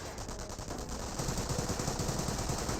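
Rapid bursts of automatic gunfire crackle in a Company of Heroes battle, an even rattling stream that grows louder over a few seconds amid dense battle noise, with no voices.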